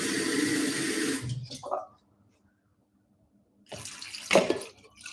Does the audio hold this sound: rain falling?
no